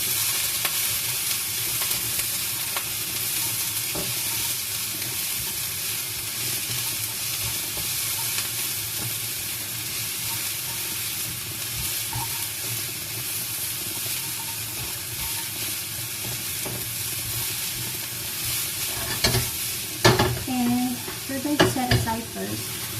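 Cabbage being stir fried in a pan, a steady close sizzle with constant stirring and scraping, followed near the end by louder clattering knocks of a utensil against the pan.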